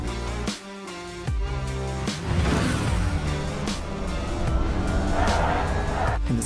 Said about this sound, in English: In Troy, the electric car Nova now spawns in the field.